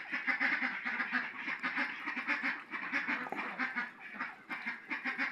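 Campbell and Indian Runner ducks quack in a steady, overlapping chorus close by, with constant busy calling and no talk.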